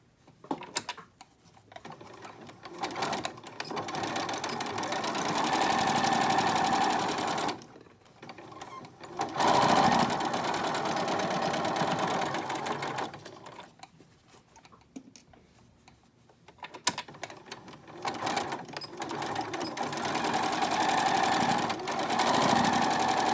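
Sewing machine stitching a fabric face mask, several bursts of fast, even needle chatter separated by short pauses, close and fairly loud with no voices.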